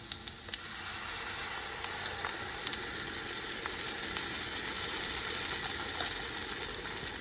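Beans and onion frying in a pan, a steady bright sizzle and hiss with faint stirring scrapes, continuous and close, with no talking.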